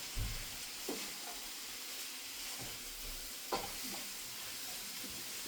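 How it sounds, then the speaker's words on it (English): Egg roll filling being stirred and mixed in a bowl, a steady scraping swish with a few sharper knocks of the utensil against the bowl, close and continuous. "So we're going to give this a good little mix here."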